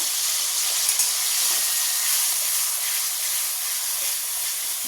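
Tomato, ginger, green chili and cashew paste frying in a pan, giving a steady, even hiss and sizzle that holds at a constant level throughout with no pauses.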